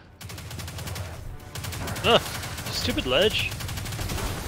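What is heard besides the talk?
gunfire in the video game Destiny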